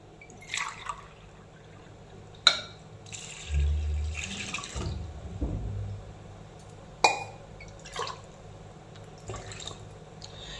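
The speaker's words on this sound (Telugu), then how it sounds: "ఈ పెసరపప్పు నిండేంత వరకు వాటర్ పోసుకుందాము" Water pours and splashes into a bowl of washed moong dal in several short, quiet bursts with gentle trickling between them.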